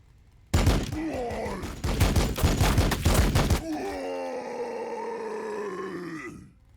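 Heavy rattling gunfire from a Warhammer 40,000 battle game, Blood Angels against Orks in a siege, pounds in loud rhythmic bursts for about three seconds, then gives way to a droning, whining mechanical tone that fades out.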